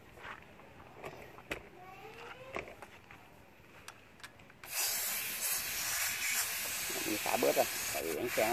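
A Ryobi 18V battery pump inflates a motorbike tire: faint background sounds come first, then the pump kicks in abruptly with a loud, steady hissing whir that runs to the end.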